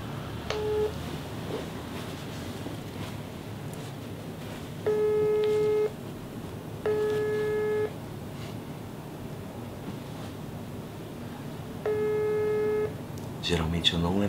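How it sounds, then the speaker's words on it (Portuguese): A phone call being dialed in Portuguese plays a short tone, then three long, evenly spaced ringback tones over faint background hiss, with a brief rustle at the end. "Vamos ligar pra Luísa Sons, a senhora Whindersson Nunes"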